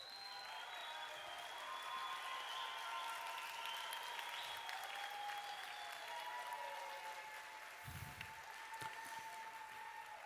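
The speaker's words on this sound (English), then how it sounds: "acknowledge the support of their loved ones with a hearty round of applause" Graduates at a university graduation ceremony stand and applaud their loved ones, a broad, sustained round of clapping across a large hall with organ or music tones sounding beneath it.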